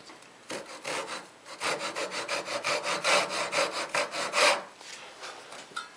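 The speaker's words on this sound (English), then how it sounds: "I'm just going to make the cut with my little dovetail saw" A small dovetail saw cuts through a piece of wood held steady by hand, a run of rhythmic close rasping strokes that builds up after a quiet start and stops near the end.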